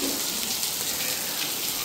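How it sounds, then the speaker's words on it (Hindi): Heavy rain pours down steadily in a dense, even wash, drumming on surfaces including a parked Bolero, loud and continuous with no voices. "कसम से बहुत तेज़ बारिश हो रही है"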